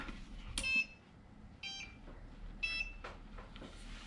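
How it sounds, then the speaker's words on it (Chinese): An XKBOT toy robot powers on with a few short electronic beeps and chime-like tones in bursts, separated by pauses, over a faint background hum. "我非常喜欢听它开的声音。"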